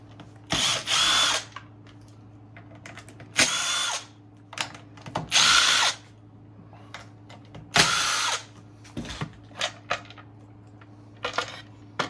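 Power drill backing out bolts to remove the cover of a Neptune variable speed pool pump motor: several loud whirring bursts of a second or so, separated by pauses, with small clinks and rattles between them and a steady low hum underneath.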